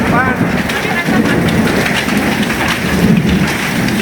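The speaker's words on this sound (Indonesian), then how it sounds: "Hujan es. Hujan es. Hujan es, ya Allah." Hail and heavy rain batter surfaces in a Sukabumi thunderstorm, a loud, steady pelting roar underpinned by low rumbling thunder, with a voice briefly heard under the din.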